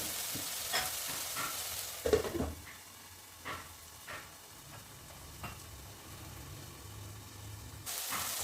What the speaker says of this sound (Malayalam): ഇളക്കി യോജിപ്പിക്കാം. ഈ തക്കാളി നന്നായിട്ട് വഴഞ്ഞ് അതിൻ്റെ നീരൊക്കെ നന്നായിട്ട് ഇറങ്ങട്ടെ.